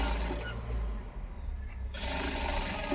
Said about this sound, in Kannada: ಈ ರೀತಿ ಸ್ಟಿಚ್ ಮಾಡ್ಕೊಳ್ಳಿ